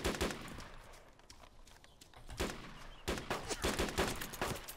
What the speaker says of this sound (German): Ich werde angeschossen von zwei Seiten